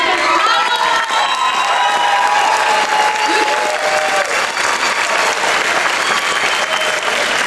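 A crowd at a community meeting breaks into loud, sustained applause, with cheers and shouts, whistles, and excited voices rising over the steady clapping throughout.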